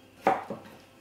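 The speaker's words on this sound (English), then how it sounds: "And then you can simply make thin slices" A knife cuts thin slices of vegetable on a board, giving two quick, close taps a moment apart, the first sharper, in an otherwise quiet kitchen.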